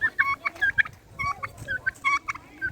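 Farmed turkeys gobble and cluck close by in quick, bursty calls, several overlapping bright yelps rising and falling over a low farmyard murmur.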